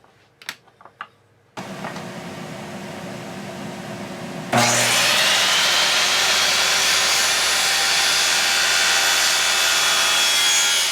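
A segmented scalloped wooden pen blank is sawn to trim it flush. After a few brief knocks, a steady, loud cutting noise starts partway in and continues unbroken at close range.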